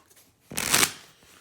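A single quick riffle of a stripper deck of cards, a crisp fluttering burst lasting under half a second, close and otherwise quiet.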